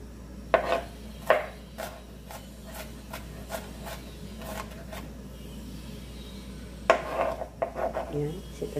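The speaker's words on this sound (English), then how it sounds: "i-cut natin ng mince natin ang ating onion" A knife minces half an onion on a cutting board, with sharp, irregular taps in quick bursts, a quieter stretch in the middle, then another flurry of rapid chops close by.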